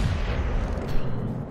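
Ship guns firing in the naval game World of Warships, heavy deep booming salvos with a dense rumbling roar, heard close and loud.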